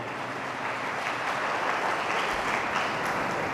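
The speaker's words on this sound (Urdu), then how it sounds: "اس بہن کے لیے زوردار تالیاں بجائیں گے۔" Applause from a church audience for a woman during a pastor's sermon, a dense, steady wash of clapping that holds fairly evenly for a few seconds without speech.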